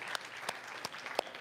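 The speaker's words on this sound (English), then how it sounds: "So let's give a round of applause to all of our volunteers" A short burst of applause at a church service honoring volunteers, with a few distinct claps standing out over a soft, steady patter of many hands.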